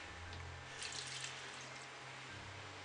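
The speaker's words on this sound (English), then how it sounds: "maybe half a cup of water just to get it wet" Water is poured into a kimchi paste in a bowl, a faint, soft trickle and splash under a steady low background hum, with no voices.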